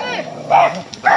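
A dog barks twice in quick succession, near and loud, with a brief whine between the barks.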